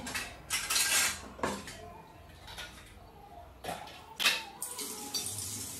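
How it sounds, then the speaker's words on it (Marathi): Dishes clink and clatter in uneven bursts as they are washed, with splashes of running water between the knocks of plates and utensils. "तर ही भांडी पण लगेचच धुवून घेतली"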